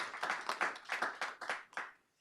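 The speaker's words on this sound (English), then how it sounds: "You can clap for that." A small audience clapping at a talk on criminal justice reform and safety in corrections, a brisk burst of close, distinct claps in uneven rhythm that fades out toward the end.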